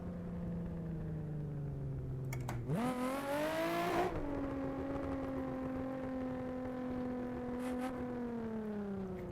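A Nissan 350Z engine in Assetto Corsa, a steady droning hum that rises sharply in a brief rev around the middle, then settles into an even, higher cruising tone under faint background noise.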